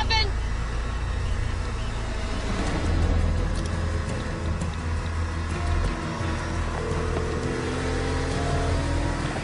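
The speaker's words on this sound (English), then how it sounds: "Stop the car, Stefan!" A car drives along with a steady low engine and road rumble that swells slightly midway, while voices speak over it.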